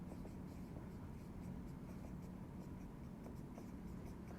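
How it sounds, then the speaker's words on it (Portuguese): Marker or chalk writing on a classroom board during a math lesson on logarithm properties, a steady faint scratching and tapping texture under low room noise, with no talk. "Então, se você esqueceu, vou escrever aqui, propriedades."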